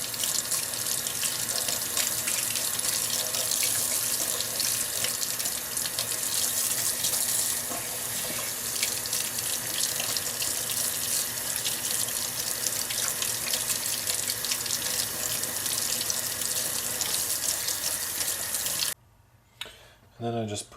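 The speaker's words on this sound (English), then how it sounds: "And then I just rinse the roots. Make sure the dirt is off them." Tap water runs steadily into a sink as dandelion roots are rinsed clean of dirt, a constant close splashing rush that cuts off abruptly near the end.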